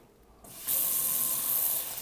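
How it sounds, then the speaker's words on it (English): A newly installed kitchen sink tap is turned on after a short quiet moment, and water gushes out in a steady, loud, hissing stream that continues unbroken to the end. "Let's see if the water's running."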